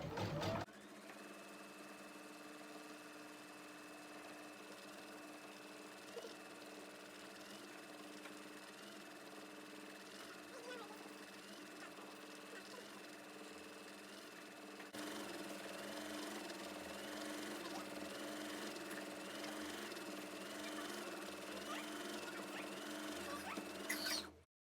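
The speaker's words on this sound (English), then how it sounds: "I can only start the machine and it will start doing the quilting lines" An embroidery machine runs an in-the-hoop project, stitching quilting lines with a steady, quiet mechanical whir and fast needle chatter, growing slightly louder partway through before stopping abruptly at the end.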